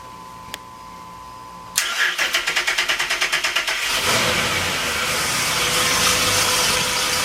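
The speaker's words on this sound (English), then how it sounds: "let's start it up so you can hear them run" Twin engines of a 2008 Sea Ray 330 Sundancer boat cranking over with a rapid rhythmic starter chug, then catching and settling into a loud, steady running rumble close by.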